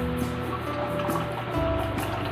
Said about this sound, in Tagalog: Buksan po natin dito para bumaba ang tubig.